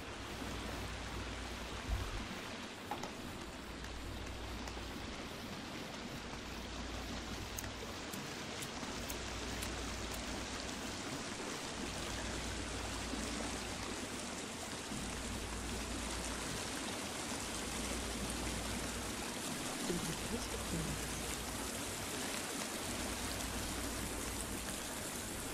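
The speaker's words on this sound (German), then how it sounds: "Also das ist irgendwie so eine Wasserfallhöhle oder irgendwas." Steady rushing water in a waterfall cave in the video game The Forest, a dense continuous hiss and splash with a low pulsing undertone, heard alone without talk.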